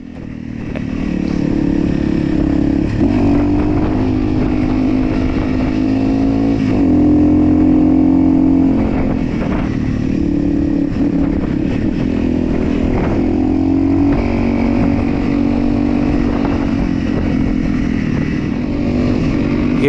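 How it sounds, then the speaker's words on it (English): A Honda CRF Rally 301 and a KTM 990 ride through the Moab, Utah backcountry, engines droning steadily and loudly throughout with pitch rising and falling as they shift and rev, plus some rattling clatter. "For my part, I'm on a Honda CRF Rally"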